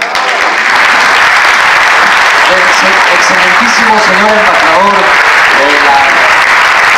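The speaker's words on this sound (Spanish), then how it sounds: "fuerte aplauso para el doctor Pablo Moctezuma Barragán" Strong applause from an audience at a book presentation for a book on Cárdenas, rising and continuing loudly while someone speaks over it through a microphone.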